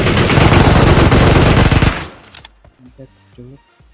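Rapid automatic gunfire in PUBG, a dense sustained burst of shots lasting about two seconds, then a few scattered shots and short game sound effects as the firing dies away.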